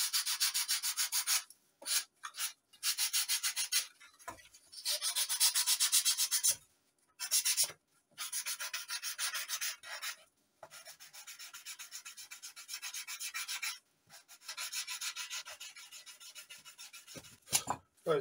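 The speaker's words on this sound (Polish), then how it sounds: "To jest oczywiście takie wstępne, zgrubne poszlifowanie, tylko po to, żeby złapać kształt" A model aircraft wing is rough-sanded by hand to bring it into shape, giving close, steady scratchy strokes in long bursts separated by short pauses, with no voices.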